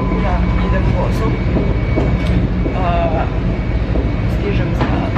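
A passenger train rolling along on a trip toward Amsterdam, giving a steady, loud, continuous rumble and rattle throughout, with faint voices in the carriage.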